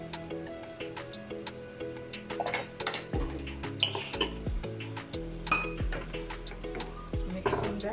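Potato samosa filling being stirred in a pot, with repeated clinks and scrapes of a spoon against the metal and low rumbling knocks, close and busy throughout.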